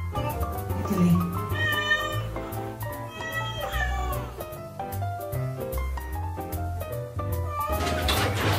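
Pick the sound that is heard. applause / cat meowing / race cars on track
cat meowing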